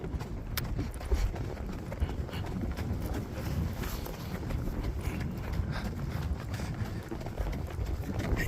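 A horse named Jasmine trots along an uneven road, hooves clip-clopping in a steady, rapid rhythm for the whole stretch, fairly close, with light wind buffeting the microphone.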